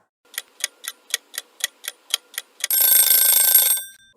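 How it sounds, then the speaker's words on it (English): Kitchen oven timer ticking steadily about ten times, then breaking into a loud, continuous metallic ringing that stops after about a second. "That's the timer going off."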